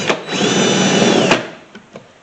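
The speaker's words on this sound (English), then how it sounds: "I'm going to use my countersink bit." A power drill fitted with a countersink bit spins up briefly: a short, loud whine lasting about a second, then winding down, followed by a couple of light taps.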